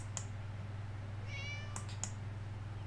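A cat meows in the Second Life game, a couple of faint short mews rising in pitch, heard over a low steady hum with a few soft clicks.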